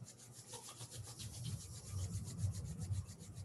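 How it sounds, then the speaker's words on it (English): Palms rub quickly together in a quiet meditation and pranayama session, making a soft, steady, rhythmic swishing friction close up that continues for several seconds without speech. "rub your palms."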